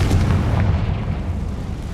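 A Confringo fire spell explodes in Hogwarts Legacy, a loud, dense booming blast that fills the whole moment with heavy low rumble and no voices.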